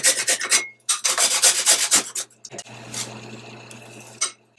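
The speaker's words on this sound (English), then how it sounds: "to grate the ginger, you just grate it with a small grater" Fresh ginger being rubbed against a small hand grater in a kitchen, giving bursts of quick, scratchy rasping strokes with short pauses between. The sound is close and crisp, with lighter scraping near the end.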